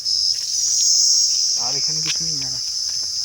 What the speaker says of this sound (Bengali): ঝিঝি পোকার ডাক দিনের বেলা শুনতে পাচ্ছিস